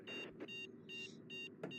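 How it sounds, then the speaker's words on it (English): An overspeed warning tone in Train Simulator Classic, with a BNSF train on Cajon Pass, beeps repeatedly in short, evenly spaced pulses over a steady low cab rumble, fairly quiet. "I guess if I go over 75, it makes that beeping noise."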